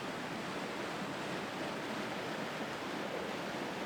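The River Brathay rushes over moss-clad rocks in a damp, misty spot, a steady, dense roar of flowing water filling the whole scene without a break.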